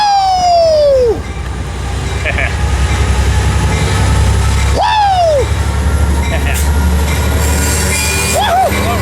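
A Metrolink commuter train leads out of Fullerton station, its wheels letting out repeated high, falling squeals over a loud, continuous rail rumble that fills the whole stretch.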